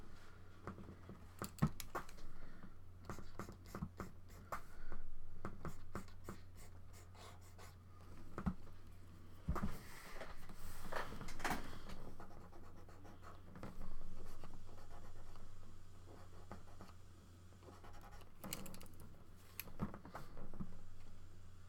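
Pencil or pen strokes on paper while drawing hands for a painting, a close, quiet scratching in short irregular bursts with pauses between.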